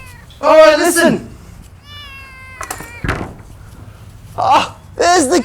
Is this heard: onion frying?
no